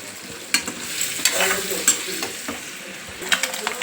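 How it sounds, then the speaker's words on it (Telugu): Boiled eggs fry in oil in a pan for egg masala gravy, a steady sizzle broken by scattered sharp crackles and spatters, with occasional stirring scrapes close by. "ఎగ్స్ మంచిగా వేగినాయి కదా"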